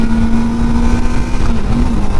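Kawasaki ZX-4RR 400cc inline-four race-style motorcycle revving close by, a loud steady high-pitched engine drone with a faint pitch wobble, no talk over it.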